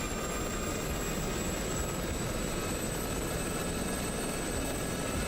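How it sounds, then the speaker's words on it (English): A Gazelle helicopter in DCS World hums with a steady, even engine and rotor drone as it spools up, a continuous whine with faint high tones and no speech. "It's quite a funny helicopter, the Gazelle."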